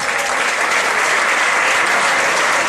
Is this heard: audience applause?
yes